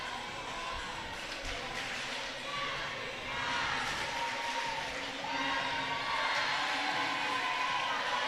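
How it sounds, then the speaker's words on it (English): Crowd at a women's college gymnastics national event final, cheering and chanting a gymnast's name as she takes the floor exercise, a steady, loud, reverberant roar with voices rising in waves throughout. "you hear the crowd chanting her name right now"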